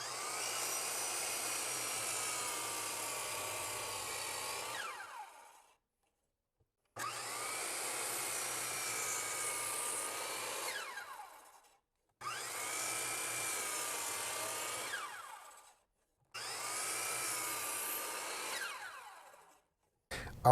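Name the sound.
power saw disc cutting shelf pieces at 20-degree angle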